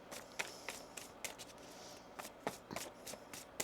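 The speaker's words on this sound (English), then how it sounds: "One more shuffle." Tarot cards riffle and slap together in quick, close bursts at a quiet level, a series of short shuffles separated by brief pauses, with no talking over them.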